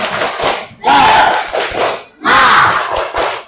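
A group of voices shouts a rhythmic Indonesian clap-chant together in two loud bursts, with claps and thumps mixed in.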